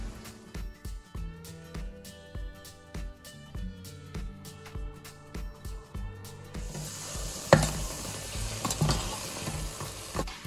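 Spice powder is stirred into a pan of frying tomato and chopped mint masala, with rhythmic scraping strokes over a steady sizzle that swells into louder, hissing frying partway through.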